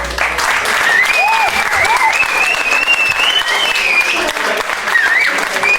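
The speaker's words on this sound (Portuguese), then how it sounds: "Salve de palmas para o Juscelino" Audience applause at a live show, loud and continuous, with a shrill whistle wavering above the clapping and a few cheers mixed in.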